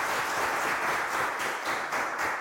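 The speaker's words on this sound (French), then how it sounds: "on l'applaudit" Audience applause fills the space, a dense, steady wash of many hands clapping at moderate loudness for a couple of seconds.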